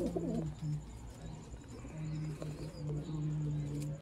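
Sialkoti black-mouthed pigeons coo in a steady series of low, throaty calls, overlapping and repeating close by against a busy background hum.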